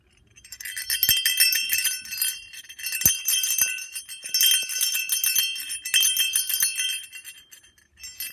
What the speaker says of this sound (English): This bell is cool.